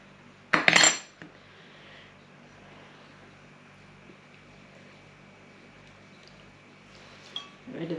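A spoon clinks sharply against a dish once while pips are removed for salsa, followed by a quiet stretch and a few lighter clinks at the end, with no talk.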